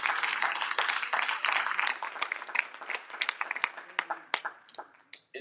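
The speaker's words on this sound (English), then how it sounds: "Give God a hand clap." A church congregation claps their hands during a sermon, a burst of loud, dense clapping that thins into scattered claps and fades out.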